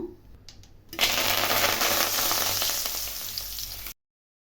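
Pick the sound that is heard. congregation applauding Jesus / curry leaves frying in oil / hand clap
curry leaves frying in oil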